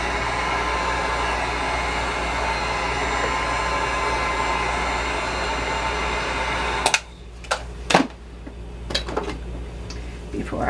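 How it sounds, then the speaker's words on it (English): A heat tool blows hot air to dry paint on a mixed media art journal page, a steady loud whooshing roar that cuts off abruptly near the end, followed by a few light clatters and knocks. "I'm gonna just take my heat tool and just dry that out a little bit."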